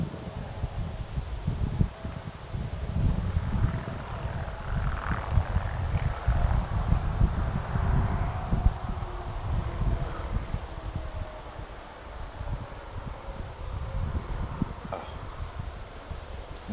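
Wind stirring leaves in open countryside at night, a steady soft rustle with low gusty rumble and faint insect-like buzzing throughout, no talk.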